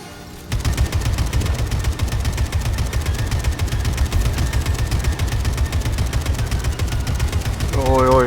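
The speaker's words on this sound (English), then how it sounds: "おいおい AK のフルオートだぞ。" Sustained full-auto AK assault rifle fire in the video game Atomic Heart, a dense rapid rattle of gunshots running loud and continuous for several seconds after a brief quiet start.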